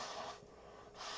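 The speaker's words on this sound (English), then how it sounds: "I gotta blow my nose again." Someone blows their nose, two short, close, breathy bursts of air with a brief pause between them, faint and with no talking.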